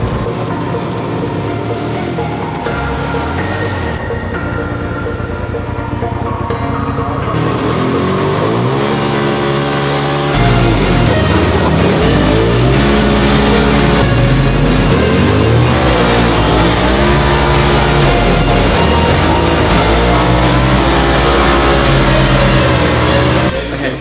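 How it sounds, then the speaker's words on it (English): A Polaris off-road vehicle drives at the Race Of Champions motorsport event, its engine loud and close, revving and climbing through gears with rising and falling pitch throughout. "take you out for a spin in the Polaris."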